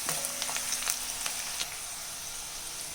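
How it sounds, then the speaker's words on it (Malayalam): Ginger, garlic and green chillies sauté in hot oil in a pan for a homemade lemon pickle, giving a steady, close sizzle with a few sharp crackles and pops in the first second and a half. "ഇഞ്ചിയും വെളുത്തുള്ളിയും പച്ചമുളകും ഒന്ന് പച്ചമണം മാറി വരുന്നത് വരെ ഒന്ന് വാട്ടിയെടുക്കാം നമുക്ക്"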